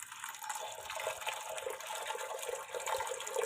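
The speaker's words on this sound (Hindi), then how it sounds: "अब इसमें शामिल करेंगे पानी।" Water is poured into a pot of lentils during cooking, producing a close, steady rushing splash that lasts for a few seconds and fills the space on its own.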